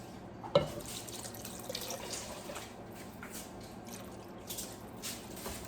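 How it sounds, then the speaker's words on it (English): Water runs from a tap into a pot of seafood gumbo, a steady pour with small splashes and drips, close and fairly quiet with no talk. "You add about 4 cups of water."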